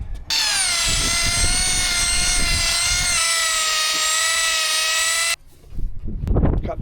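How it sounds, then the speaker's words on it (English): A power planer shaves down a wooden staircase part, its loud steady whine holding for about five seconds with a slight drop in pitch midway, then cutting off into low clatter and handling noise. "and plane it down."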